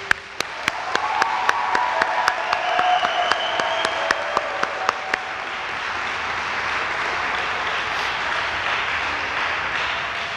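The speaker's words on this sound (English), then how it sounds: "do another round of applause for the graduates" A crowd applauds graduates at a police department junior graduation ceremony. A few sharp, loud individual claps stand out near the front early on, over a broad steady applause that carries on evenly to the end.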